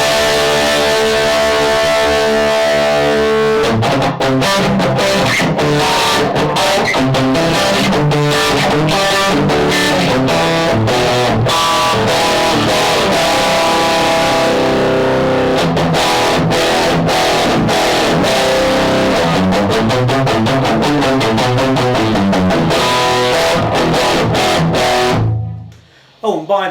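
Electric guitar through a Friedman Dirty Shirley overdrive pedal with the treble turned down: a held chord, then loud, gritty, rapid chugging riffs and chords played continuously for over twenty seconds before cutting off.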